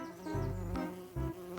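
A bee buzzes close by in two humming bursts, with a steady tone that rises and falls across a short moment.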